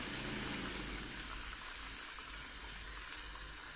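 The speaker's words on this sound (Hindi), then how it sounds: "इसको अच्छी तरह भूनना है" Chicken and yogurt frying in a karahi pan, a steady dense sizzle close up that holds level throughout with no talking.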